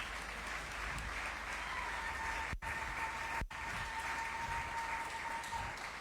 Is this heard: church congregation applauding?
yes